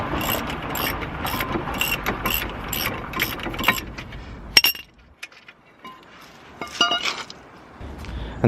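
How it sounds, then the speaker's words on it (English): While brake pads and rotors are being replaced on a car, a ratchet wrench turns a fastener in repeated rhythmic clicking bursts, close and loud, then pauses before a few metallic clinks of tools and parts. "Now we're gonna swap the breaker bar to a ratchet."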